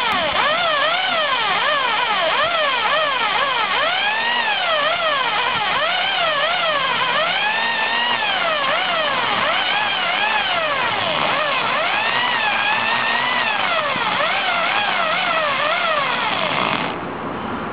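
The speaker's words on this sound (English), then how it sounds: "I'm going to drill pilot holes in them." A drill whines as it bores pilot holes through a thick steel bumper lubricated with thread-cutting oil, its pitch swooping up and down continuously under load before cutting off near the end.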